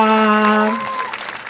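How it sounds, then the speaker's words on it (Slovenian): Audience applause at a stand-up comedy show at Tržnica Maribor, a broad wash of clapping that follows a sustained tone and fades gradually, with a voice briefly heard over it. "Zaploskajmo jim, no, ja."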